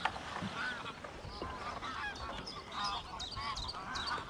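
Many geese honk repeatedly at a distance in a Danish nature park, overlapping calls over a soft outdoor background, with no talking.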